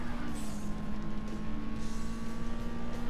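Race car engines in Burnout 2 drone steadily at a sustained pitch with a slow falling sweep, loud and continuous with faint background noise, no talk.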